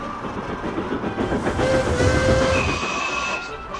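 A train rumbles along the rails beside a platform with a rhythmic clatter, growing louder as it draws near, and a faint whistle sounds briefly.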